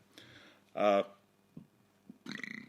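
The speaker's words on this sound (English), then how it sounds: "Oh shit, sorry, that was a bad burp." A single loud, guttural burp from a podcast host during a chat about surfing, rising abruptly out of near silence and cutting off sharply, with a few brief voice sounds around it.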